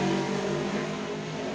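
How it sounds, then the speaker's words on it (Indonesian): A motorcycle passes along the road just outside a house, its engine a steady, fairly close droning rumble that fills the whole short stretch. "rumah saya pinggir jalan, jadi ada motor lewat dan lain sebagainya"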